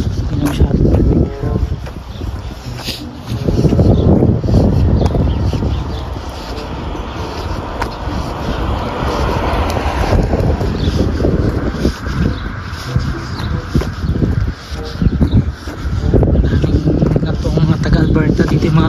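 Strong outdoor wind in Alberta, Canada buffets the microphone with a constant, loud rushing roar, and someone talks over it.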